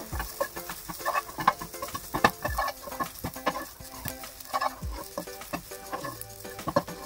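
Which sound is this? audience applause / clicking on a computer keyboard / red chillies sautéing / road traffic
red chillies sautéing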